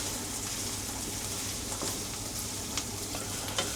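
Onions sizzle steadily in a pan for keema, a close, continuous crackling hiss with small pops and no voices.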